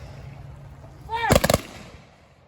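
An honor guard fires a rifle volley salute at a funeral in Canton, Ohio: a shouted command, then a loud, near-simultaneous burst of several rifle cracks that echoes briefly outdoors.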